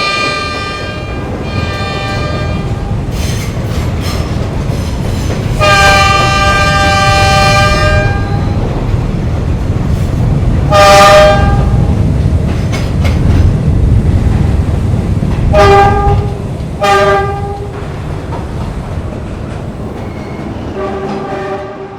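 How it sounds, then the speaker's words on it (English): A train sounds its horn repeatedly while rumbling past right beside homes in Hanoi, Vietnam, several loud harmonic horn blasts rising over a steady, close rolling roar of the cars. "a train coming here would be pretty sweet"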